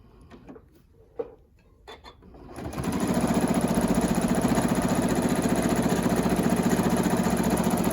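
A sewing machine stitching a variable-width zigzag, its width set by a knee lift, starts after a few quiet handling clicks and then runs as a steady, fast mechanical whir at constant loudness.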